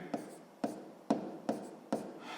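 A pen writes by hand on paper while working a sixth-grade maths exercise, five quiet, evenly spaced strokes close by with faint rubbing between.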